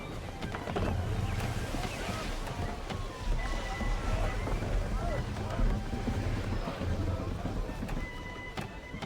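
Wind gusts over a sailing ship at sea in Assassin's Creed III, a continuous rushing roar with creaks and water wash, and shouted voices come and go over it.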